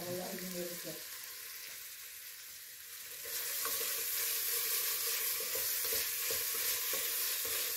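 Vegetables and chard root sauté in a pot for soup, a steady close sizzle that grows louder partway through, with occasional stirring scrapes and clicks.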